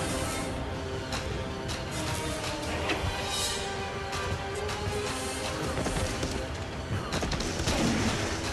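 Dense, continuous gunfire and explosive bursts from the video game Bladeslinger fill the clip, rapid and overlapping, with a busy battle din throughout.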